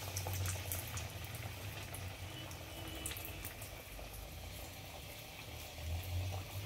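Drumstick leaf dal vadas, flattened patties of lentil batter with moringa greens, fry in hot oil with a steady, dense bubbling sizzle that holds throughout and swells briefly near the end.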